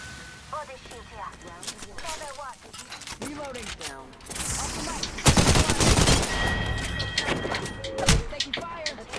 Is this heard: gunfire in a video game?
yes